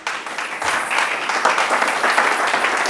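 A church congregation applauding during a sermon, continuous dense clapping from many hands that swells in after a brief pause and holds steady.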